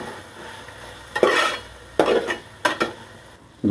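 Chilli powder being stirred into hot oil in a pan while cooking vegetable biryani, soft background sizzle broken by several sharp scraping stirs of a spoon against the pan, close and without speech.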